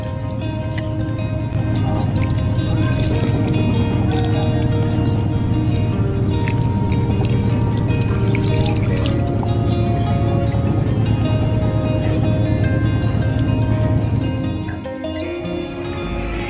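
Crab meat is rinsed under running water: a loud, continuous splashing flow goes on steadily for many seconds, close by, then cuts off near the end.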